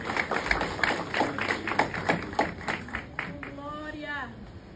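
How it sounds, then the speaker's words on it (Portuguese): A church congregation claps for the Lord during a service, a brisk run of hand claps under a preacher's voice, thinning out near the end as singing or speech carries on. "Aplauda o Senhor bem forte."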